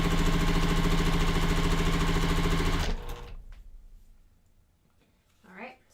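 A sewing machine stitches pieces of quilt fabric for a Wave Pool block-of-the-month quilt, running in a loud, steady, rapid whir for about three seconds before stopping, followed by quieter handling noise and a brief voice.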